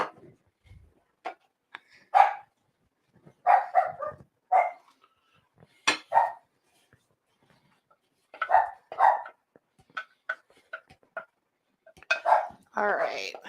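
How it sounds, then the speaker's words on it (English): Dogs bark in scattered bursts and yips, moderately distant, with quiet gaps between them. "You can hear my babies barking in the background."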